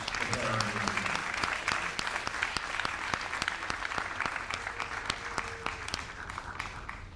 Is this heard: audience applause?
yes